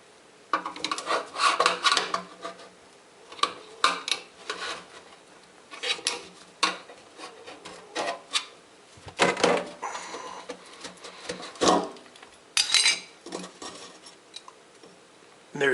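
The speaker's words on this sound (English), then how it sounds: "Now you'll need to remove this additional flange and the dry gasket above it." Metallic scraping, clinks and rubbing come from a garbage disposal sink flange and dry gasket being worked loose under a sink, in irregular bursts separated by short quiet gaps, close and moderately loud with no talking.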